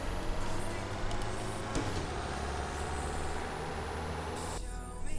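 A car engine in American Truck Simulator hums steadily at low pitch while driving, with a brief hiss partway through and a slight drop in sound near the end.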